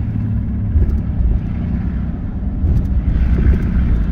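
Engine of a Chevy Cavalier with the 2.2 motor running during a neutral drop, a loud, rough low rumble that holds steady with slight surges and no voices over it.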